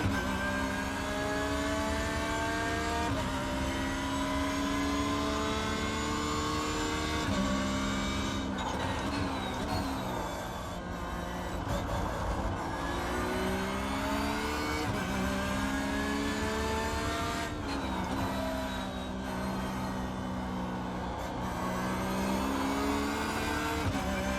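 A race car engine driving a lap of Watkins Glen in the iRacing simulator, revving up and down continuously through gear shifts, braking and acceleration, sounding loud and close throughout with no talk.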